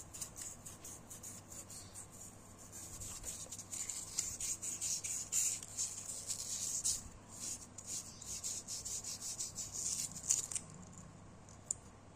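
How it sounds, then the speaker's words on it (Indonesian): Sandpaper rubbed by hand against a worn oil pump shaft from a Yamaha X Ride scooter, a continuous scratchy rasp in quick back-and-forth strokes, close and steady for the whole stretch. "Kita amplas sampai kira-kira halus ya"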